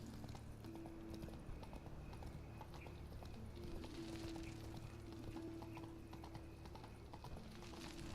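Horse hooves clip-clopping at a walk on city streets in The Witcher 3, a steady close rhythm with a faint whinny and background ambience, no talking.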